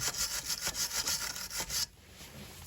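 A front suspension arm from a Mercedes CLK 209 / C203 is scrubbed clean by hand, a loud, close, rhythmic rasping of quick back-and-forth strokes that stops abruptly near the end.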